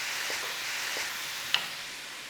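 Steady, soft sizzling of frozen minced meat frying in a pan, with a few faint scrapes and one brief sharp tick partway through.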